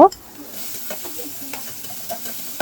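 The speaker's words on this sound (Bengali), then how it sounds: "ডালটা আমি সবকিছু দিয়ে ঘুটে নিয়েছি, এখন বাগার দিব" Lentil dal with tomato being tempered with spices in hot oil, a sharp sizzling burst at the start settling into close crackling and intermittent stirring, no talking.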